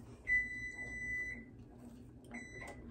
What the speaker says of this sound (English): All right, that was the timer